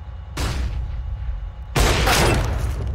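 A CS:GO flashbang grenade detonates as two loud, broad bursts: a shorter crack followed about a second and a half later by a bigger blast whose noisy roar holds to the end.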